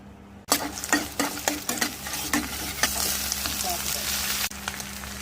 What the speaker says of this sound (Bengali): সকালে ডিম আলু ভাজবো বলে রেডি করছি